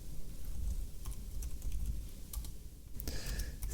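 Soft clicking of fingers typing on a computer keyboard during a programming session, a quiet irregular run of keystrokes with a brief burst of sharper taps near the end.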